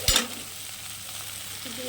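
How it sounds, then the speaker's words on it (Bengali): Potatoes sizzle and scrape in a frying pan as they are stirred, with one sharp clatter at the start and then a steady hiss. "এবার দেবো আর ভাজা আলুগুলো দিয়ে"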